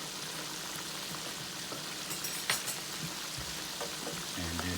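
Ranch ribs fry in a pan, a steady, close hiss of sizzling oil with scattered pops and crackles and a few light scrapes and clunks near the end, with no talking.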